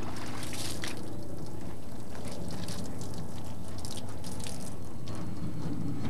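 A car wash mitt being rinsed with water, a steady splashing, trickling wash of running and dripping water that stays close and fairly loud throughout, with no voices.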